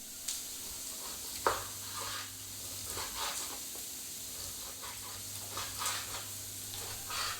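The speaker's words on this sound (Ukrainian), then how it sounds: "Обсмажуємо до напівготовності" Vegetables sizzle steadily in a hot pan, fried until half-cooked, with soft stirring scrapes and occasional louder clicks of a utensil, close and without speech.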